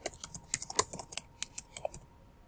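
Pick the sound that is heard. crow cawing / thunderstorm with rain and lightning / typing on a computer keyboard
typing on a computer keyboard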